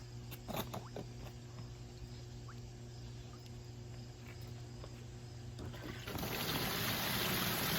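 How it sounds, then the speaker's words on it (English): Water trickles and patters through filter media in a homemade koi pond filter, soft and close, growing into a louder, fuller splashing flow near the end over a steady background hum. "See how the water streams through. Trickles down through the media."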